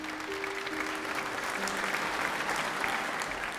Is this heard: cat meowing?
no